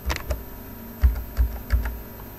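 Keys being typed on a computer keyboard while entering a capital N and an amount in Microsoft Word, a handful of distinct clicks in quick bursts, close and clear with no talking.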